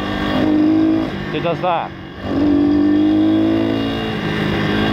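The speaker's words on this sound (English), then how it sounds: "To get the front wheel up, I have to really rev the bollocks off it, and it's unpredictable." A pit bike engine revs hard in two long, loud bursts separated by a short dip, its raspy drone held steady at close range, with someone speaking briefly in the gap.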